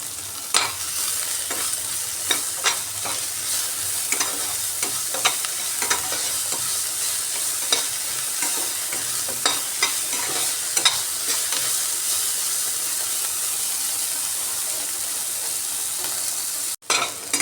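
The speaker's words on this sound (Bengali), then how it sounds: "পেঁয়াজগুলো ভাজা ভাজা হয়ে গেছে" Onions frying in oil in a pan with salt added, a continuous close sizzle broken by frequent sharp stirring scrapes and taps throughout, no voices.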